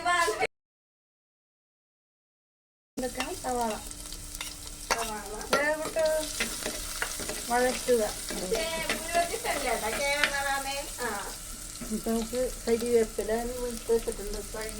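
Fenugreek seeds and onion frying in a pan as the base for a Kerala fish curry, a steady close sizzle with stirring scrapes, after a brief silent gap at the start.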